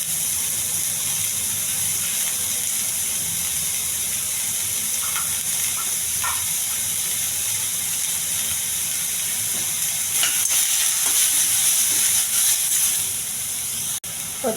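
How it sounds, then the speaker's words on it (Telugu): Curry leaves, green chillies and onions fry in a pan with a continuous close sizzle and hiss, some brief crackles and a louder burst near the end, with no talking. "బాగా వేగించాలి."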